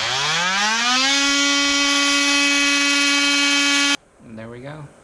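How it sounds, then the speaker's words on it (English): An electric power tool cuts bolts on a door threshold, a loud steady whine that rises in pitch and then holds for about four seconds, cuts off abruptly, and is followed by a brief voice. "I'm just gonna cut the bolts so that way they can sit in the holes"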